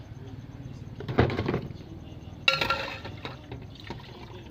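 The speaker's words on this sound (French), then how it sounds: "au bout de 30 minutes, je vais retirer la peau ici de sa première eau" Beef skin is lifted from its first boiling water, and two distinct splashes and drips of water sound close by against quiet kitchen background.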